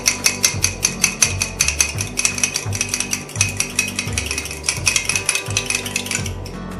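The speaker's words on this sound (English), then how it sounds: "So now we're going to take and whisk up our egg." An egg being whisked in a bowl while making 1800s-style Parker House yeast rolls, a fast steady rhythm of clinking taps that runs nearly seven seconds, close and fairly loud, with no talking.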